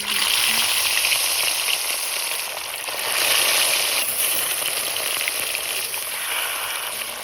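Fish fries in a large quantity of hot oil, a loud dense sizzle that runs steadily throughout, swelling slightly at times.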